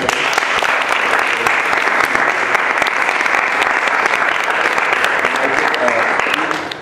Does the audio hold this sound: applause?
yes